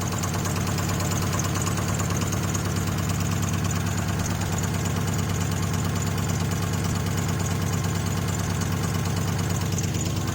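A swapped LS V8 runs in a B-Body car with a lingering backfire problem, idling steadily and loudly up close with a rapid, even pulsing rumble and no talking.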